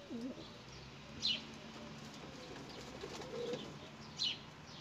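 A pair of pigeons, a male courting a blue-grey female, with soft low coos rising several times close by, mixed with occasional sharp chirps and a faint flutter.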